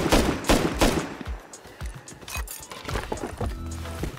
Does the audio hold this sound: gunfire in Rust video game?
yes